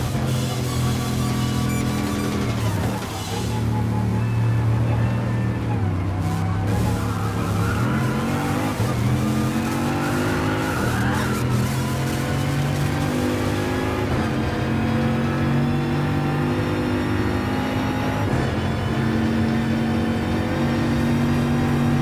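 A race car in Gran Turismo Sport held at full throttle on a track, its loud engine note climbing and dropping through gear changes with brief tire squeal, continuous and close, no talking.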